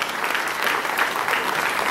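A crowd claps at a civic ceremony in Papantla, a brief, dense burst of steady applause heard close and alone.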